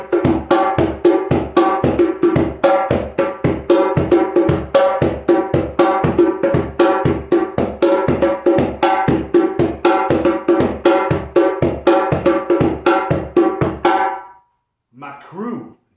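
Djembe drum played in the Macrou rhythm, a steady stream of sharp, close hand strikes with accented slaps that runs for about fourteen seconds, then stops, followed by a few faint sounds.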